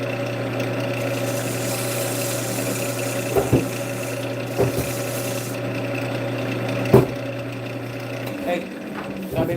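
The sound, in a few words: shaping wood spinning on a lathe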